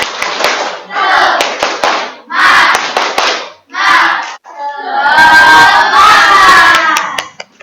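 A classroom of students performs a rhythmic spirit clapping chant, loud bursts of unison claps and shouted chanting in short phrases, ending in a swell of cheering and excited voices.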